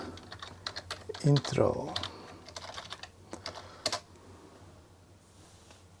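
Quick, uneven keystrokes clatter on a computer keyboard close by as a command is typed, ending in a few sharp taps, with a person speaking briefly between the clicks.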